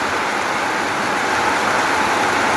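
Midday rain falling outdoors in the Thai countryside, a steady dense hiss that holds evenly throughout with no voices.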